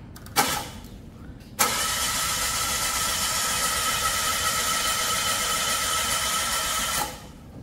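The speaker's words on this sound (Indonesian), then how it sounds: "Ini lagi coba di starter kosong." A Mitsubishi Outlander Sport's starter cranks without the engine catching: a short first crank, then a long, loud, steady whirring crank of several seconds that cuts off, heard up close with no talk.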